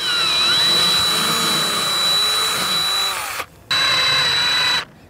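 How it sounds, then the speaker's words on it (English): An 18 inch drill bit bores through a garage wall during a ductless mini-split install, a loud, close, whining power-drill drone that briefly stops twice before cutting out. "I'm starting to drill this one now."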